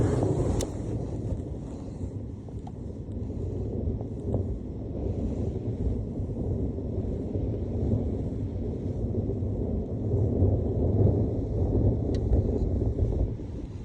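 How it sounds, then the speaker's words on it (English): Steady wind blows against the microphone out on the water during a kayak trout-fishing trip, a constant low rumbling buffet with mild gusts swelling and easing throughout, no voices. "I'm not really mad about the wind"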